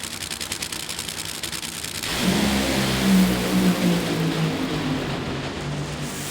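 Funny car drag racing run at the Norwalk Nationals, with a loud engine roar surging in after two seconds of steady background noise and staying strong to the end, with no voices.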